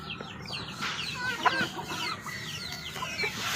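Chickens cluck and chirp repeatedly in short, busy calls, several birds close by with a steady background hum.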